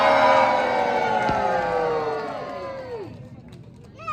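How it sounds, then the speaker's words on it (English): Audience at a West Midlands Safari Park stage show cheers loudly as performers jump from a tall tower, a dense crowd roar that swells at once and fades over several seconds, with shouting voices mixed in. "we give them a nice big cheer to jump in"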